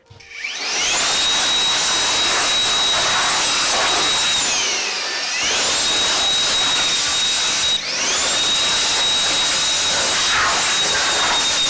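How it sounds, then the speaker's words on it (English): Small SKIL shop blower running close up, a loud, steady rushing whine that dips and surges twice as the throttle eases off and comes back. "that's where this little SKIL blower really blew me away"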